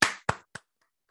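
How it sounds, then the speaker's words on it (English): Three quick hand claps from an audience at a hackathon award ceremony, sharp and close, trailing off into silence rather than building into full applause. "let's give yourselves a big round of applause for your hard work and dedication"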